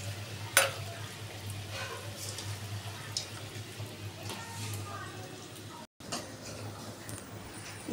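Soybean and lentil paste fritters fry in hot oil with a steady low sizzle and occasional soft stirring clicks, close and continuous, broken by a brief silence near the end.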